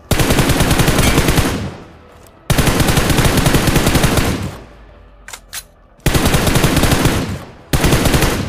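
Loud, close bursts of automatic fire from a mobile battle-royale shooter played on an iPad Mini 6, three long sustained volleys separated by brief pauses with a few single shots, no voices.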